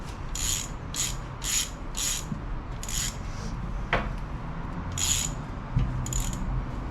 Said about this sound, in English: Disconnect the throttle linkages and such.